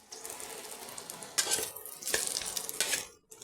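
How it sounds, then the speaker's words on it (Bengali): Crushed ginger fries in oil with softened potatoes in a pan, a quiet sizzle broken by several sharp scrapes and clinks of a spoon stirring against the pan. "আদাটা আমি অল্প একটু ভাজা ভাজা করে নেবো"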